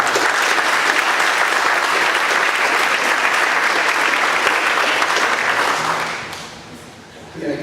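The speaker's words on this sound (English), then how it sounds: "Let's give him a round of applause." Sustained applause fills a hall of fame ceremony at a college, loud and steady from a crowd before tapering off near the end.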